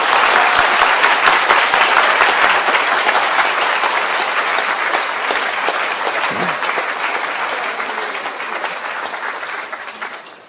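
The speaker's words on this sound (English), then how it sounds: "I will request that you burst into wild applause" At the close of a lecture on multilingual education, a large audience applauds loudly, a dense, sustained clatter of clapping with a few cheers that slowly thins and fades out at the end.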